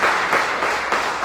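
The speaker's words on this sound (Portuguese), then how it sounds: "E Jesus merece aquele aplauso." Brief burst of audience applause inside a church during a Sunday evening family service, a dense steady patter of hands lasting only a moment.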